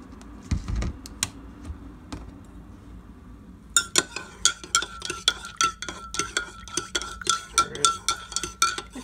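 Spoon stirring creamer into a cup of coffee, a run of quick light clinks and taps against the cup, close and fairly quiet, sparse at first then a steady rapid series.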